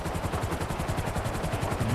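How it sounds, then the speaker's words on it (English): A helicopter in GTA 5 Online thumps steadily with fast, even rotor beats and a constant engine whine, loud and close throughout with no talking. "He's got it on a freaking helicopter."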